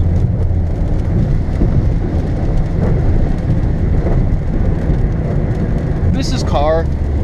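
Steady rain drums on a Ford Focus sedan, a constant wash of noise with low engine rumble beneath; a brief rising squeak appears near the end.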